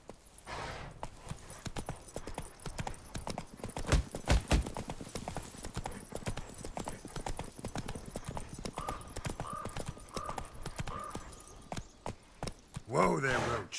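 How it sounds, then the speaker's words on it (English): Horse hooves clip-clop steadily on the ground in The Witcher 3, a continuous rhythmic trotting with a brief neigh near the end, while a voice talks intermittently over the hoofbeats. "Whoa there, Roach."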